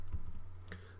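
Quiet keystrokes on a computer keyboard, a few soft clicks in quick succession over a faint steady hum, without any speaking.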